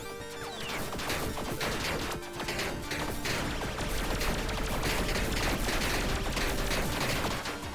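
Explosion in the roguelike game Tiny Rogues, a dense, continuous barrage of crashing, crackling impacts and rapid gunfire-like bursts, loud throughout with no talk.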